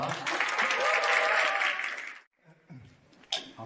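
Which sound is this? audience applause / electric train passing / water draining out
audience applause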